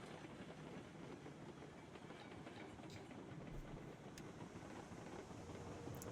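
A locomotive running in the railroad game Railroads Online, a steady rumbling roll with faint rhythmic clickety-clack of wheels over rails and occasional hissing, continuous and fairly quiet, with no talk.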